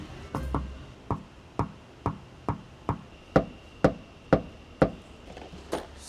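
A dent repair tool tapping a Porsche 911 panel covered in paint protection film, about a dozen soft, evenly spaced knocks in a steady rhythm, close and alone.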